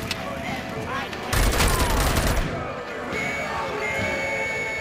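Gunfire in the RoboCop Rogue City video game: a burst of rapid, loud shots for about a second, then scattered impacts and clatter, with someone talking over it.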